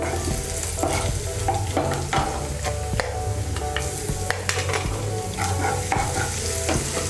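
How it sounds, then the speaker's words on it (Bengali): Chopped garlic and ginger frying in a pan, a loud crackling sizzle with busy clattering strokes of a spatula throughout, close up and with no talking. "রসুন কুচি আর আদা কুচিটাকে হালকা একটু ভেজে নেব"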